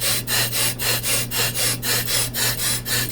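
A brake lathe cuts a brake rotor with a steady, close scraping rasp that pulses in a regular rhythm about every quarter second over a low machine hum.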